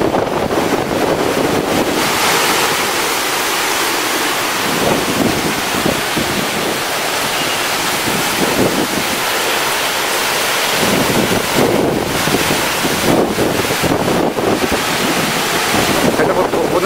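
Hurricane Charley wind roaring and surf pounding, loud continuous gusting with heavy buffeting across the microphone and waves surging underneath, sustained throughout.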